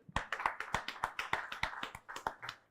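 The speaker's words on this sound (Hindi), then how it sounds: "एक बार जोरदार तालियां" A small studio audience claps in sharp, fairly regular bursts, the applause close and moderately quiet, about a dozen distinct claps over a few seconds.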